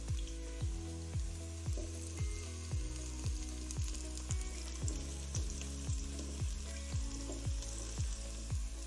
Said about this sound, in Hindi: अब ये सब्ज़ प्याज डालते हैं हम।